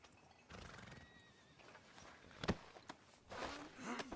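A horse whinnies and its hooves clop in Red Dead Redemption 2 outside a town sheriff's office, a sharp neigh cutting through quiet game ambience with shuffling steps around it.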